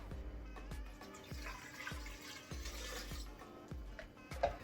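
Two cups of water splash and trickle into a cooking pot in a steady pour, with a few soft knocks against the vessel along the way.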